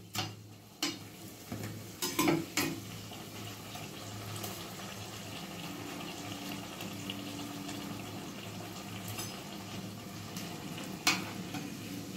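Winter red vegetables sizzle in hot oil in a pan while being stirred. A few sharp clinks of the utensil sound early on, then a soft, steady frying hiss continues.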